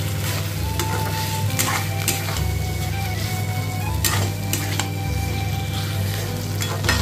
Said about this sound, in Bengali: এটা একটু টাইম নিয়ে নিয়ে ভালোভাবে কষিয়ে নিতে হবে।